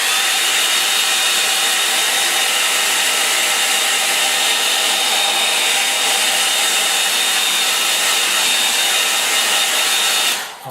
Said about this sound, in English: Extricate my hair dryer. Right, I'm going to dry this now.